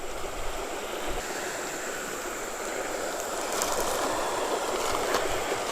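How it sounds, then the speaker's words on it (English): Creek water rushes steadily over a flat, hard rock bottom near a bridge below a broken-down dam, a continuous broadband wash that swells slightly louder toward the end, close and alone. "The creek's making its way down here to the bridge."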